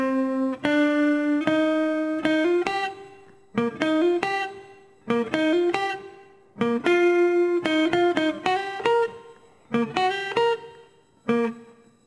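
Electric guitar plays a slow, sustained melodic lick, with long bending notes in several phrases separated by short pauses, clear and alone.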